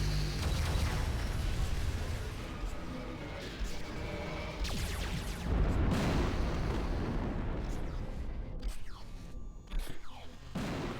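Artillery fire in the tower defense game Siege of Centauri booms and crackles in a dense, continuous barrage of explosions and bursts, loud and close throughout, with a few sharper pops toward the end.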